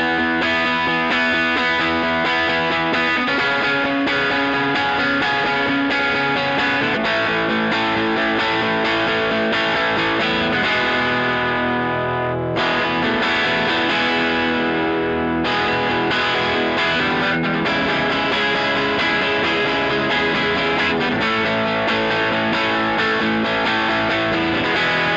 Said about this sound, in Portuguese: Eu amo o drive do Super Bolt.